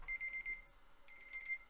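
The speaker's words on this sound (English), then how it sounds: "That's somebody's phone." A phone's reminder alarm rings somewhere in a room, a repeating electronic tone that plays in two bursts with a short gap between them, moderately quiet and without speech over it.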